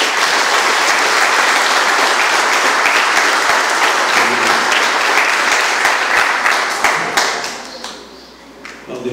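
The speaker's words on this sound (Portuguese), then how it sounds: "Mais um aplauso." Loud, sustained applause from a crowd at a church gathering of faith, dense clapping that runs nearly the whole time and fades slightly toward the end.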